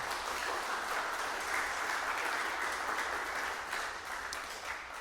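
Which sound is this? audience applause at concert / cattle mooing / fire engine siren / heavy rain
audience applause at concert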